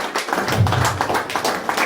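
Dense, steady applause from an audience at an awards ceremony honouring unorganised sector workers, a continuous wash of many hands clapping at close range.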